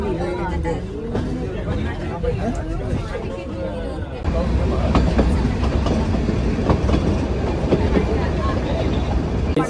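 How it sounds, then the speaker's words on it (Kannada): Rumbling Nilgiri Mountain Railway carriage noise as the train starts to move, growing louder partway through, with steady clattering and a murmur of passengers talking in the background. "ಟ್ರೈನ್ ಸ್ಟಾರ್ಟ್ ಆಯಿತು."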